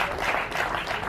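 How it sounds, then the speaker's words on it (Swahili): Crowd applause at a gospel music festival in Burundi, EDGE FEST 2020: a brief, dense burst of many hands clapping at steady strength, with no voices on top. "Mpigeni Yesu makofi"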